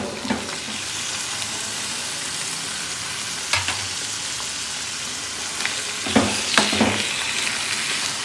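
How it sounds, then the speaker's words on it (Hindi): Chicken liver frying with onions in a pan, a steady close sizzle throughout with a few louder stirring scrapes and spatters near the end, no talking. "थोड़ा सा हम इसे भूनेंगे प्याज के साथ ताकि इसका कलर चेंज हो जाए"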